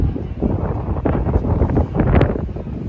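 Loud gusting wind outdoors in Seville, Spain, buffets the microphone with low rumbling roar, rising and falling in strength throughout, no other sounds standing out.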